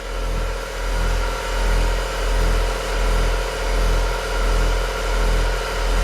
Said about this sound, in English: But the compressor's working.